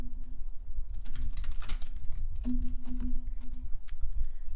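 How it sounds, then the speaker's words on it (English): Deck of oracle cards being shuffled by hand, a series of close, crisp riffling and slapping bursts in irregular clusters, moderately loud, with a faint background hum and no talk. "oracle cards. I'm just giving them a shuffle."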